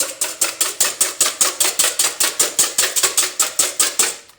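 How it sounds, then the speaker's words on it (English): Eggs whisked by hand in a bowl before being folded into a hot mixture for bread and butter pudding, a fast steady run of about twenty crisp taps, close and even in rhythm, with no voices. "So I'm gonna start mixing my eggs."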